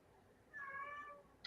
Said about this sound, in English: My cat is angry that my door's closed.